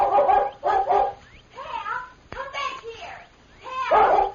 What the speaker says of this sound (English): As soon as they heard the dog barking